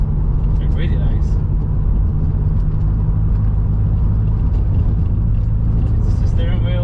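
A modified Toyota MR2 Turbo SW20 with a fiberglass Ferrari-replica body kit drives along, its engine and road noise a loud, constant rumble inside the cabin, with a voice talking over it.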